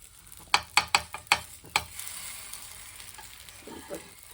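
Drumstick leaves fry in a pan: a quick series of five or six sharp stirring scrapes and clacks, then a soft, steady sizzle that carries on alone.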